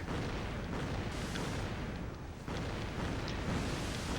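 An airstrike in the World of Warships video game, featuring the Atlanta ship, rolls as a dense, continuous rumbling roar of explosions. It stays loud and unbroken, with only a brief dip near the middle.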